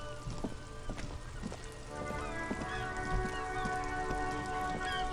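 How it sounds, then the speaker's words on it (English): Steady rain in the video game Disco Elysium patters and drips close by, with a continuous wet hiss and faint tonal sounds in the background. "It's raining again."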